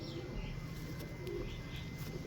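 A sturdy black pigeon coos softly in a low, steady rhythm close by, amid a busy background murmur with no talk.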